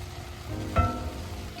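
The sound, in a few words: garlic added to meat sizzling in a skillet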